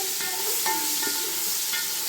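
Onions for mushroom biryani fry in hot oil with a continuous close sizzle, broken by a few clinking stirs of a spoon against the pan.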